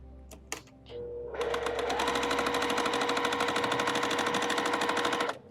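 Sewing machine stitching quilt pieces, a rapid steady mechanical rattle running close and alone for several seconds after a few brief clicks, then stopping abruptly.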